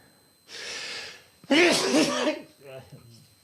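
A person close to the mic lets out a sharp sneeze with a quick breath before it, and trailing vocal sounds follow.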